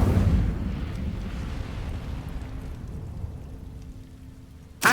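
In Hogwarts Legacy, an Incendio fire spell erupts in a loud, roaring burst that fades into a long crackling hiss, and a sharp new hit lands at the very end.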